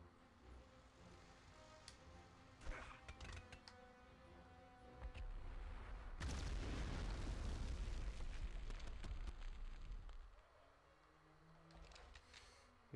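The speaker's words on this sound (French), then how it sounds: "Jerrycan explosé." A jerrycan explodes in the PlayStation 1 war shooter Medal of Honor, a rumbling, roaring blast that swells and holds for several seconds before dying away, after quieter clicks and game sounds.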